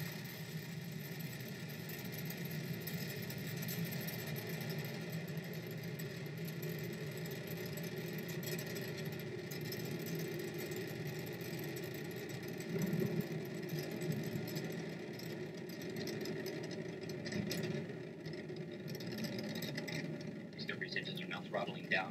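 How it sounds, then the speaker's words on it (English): Space Shuttle Discovery climbing after clearing the launch tower, a steady low rumbling roar with crackle that holds throughout, heard at a distance beneath an announcer's ongoing commentary. "The shuttle has cleared the tower. Discovery now making one last reach for the stars."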